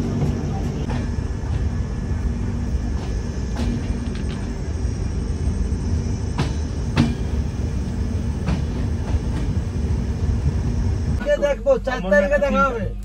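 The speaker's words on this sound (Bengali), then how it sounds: "জম্মু তাওয়াই স্টেশন ঢুকছে আমাদের গাড়ি" Rumbling train rolling into Jammu Tawi station with rhythmic clacks and creaks, then a voice speaks over the noise toward the end.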